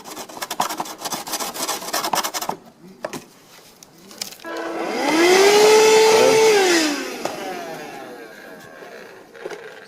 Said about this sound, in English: take some 80 grit and just kind of scuff up where those standoffs will be so that the epoxy will stick